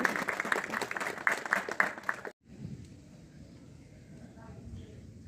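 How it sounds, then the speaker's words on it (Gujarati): An audience at an innovation festival closing ceremony in Khambhalia claps steadily for a couple of seconds. The applause cuts off abruptly, leaving quieter room sound and low voices. "અને આ તાળીઓના ગડગડાટથી વધાવી લેશું"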